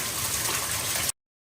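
Heavy rain pouring water into a downstairs lanai area through a door, a close, steady gushing splash of falling water that runs continuously, then cuts off abruptly into silence.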